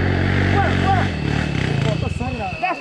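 Trail motorcycle engine running on a rough dirt trail in Tocantins, Minas Gerais, close and loud with a low harmonic drone that drops to a pulsing idle, while people talk over it.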